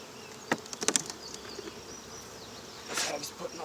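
Bees hum softly at an opened beehive that is storing honey, with a faint steady drone and a few brief knocks and rustles as frames are handled.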